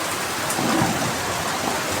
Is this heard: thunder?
yes